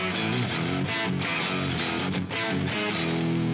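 Heavily distorted, low-tuned electric guitar through a pitch shifter, with a thick, low, saturated tone, plays dense chords and riffs, loud and close.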